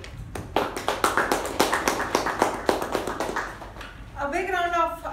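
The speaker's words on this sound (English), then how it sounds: "A big round of applause for Latha and the team who gave their speeches" Audience applause at a Toastmasters meeting, a dense run of hand claps for about four seconds in a room, then fading as a voice begins speaking.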